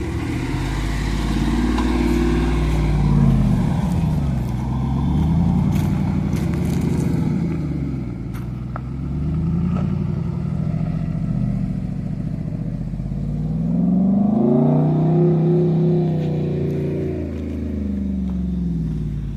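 A stock, untuned car drives across sand with a steady engine drone, rising into louder revving surges twice as it pushes through the soft ground, with rattling and clatter underneath.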